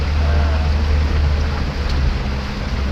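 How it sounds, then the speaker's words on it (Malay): A ferry boat's engine drones low and constant while crossing a river, with wind and water wash around it, loud and close with no talk. "kita menyeberang pergi ke Pekanbaru Intan naik bot penambang ni"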